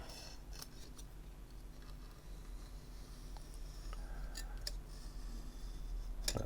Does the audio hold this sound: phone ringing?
no